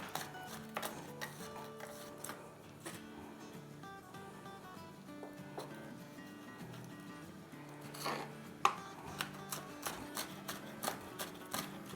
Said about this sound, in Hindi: तो बस बारीक बारीक काट लेंगे।